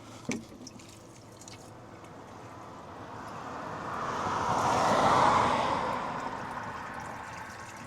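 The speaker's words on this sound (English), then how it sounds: "And I fill it up with water." Water pours into a flower pot, a rushing splash that swells louder and brighter mid-way, then eases off, after a brief knock at the start.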